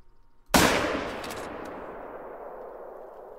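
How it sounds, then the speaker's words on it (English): A single loud .270 rifle shot cracks out in theHunter: Call of the Wild, a sharp report followed by a long echoing rumble that slowly fades over a few seconds after a quiet lead-in. "going to take a long range shot on him with the 270"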